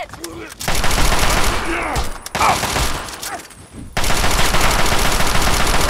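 Gunfire in Fallout 3, with loud bursts of rapid shots broken by brief pauses, close and dense, alongside a voice talking.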